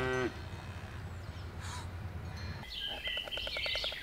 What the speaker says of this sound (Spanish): Las vacas también van a refrescarse en el agua.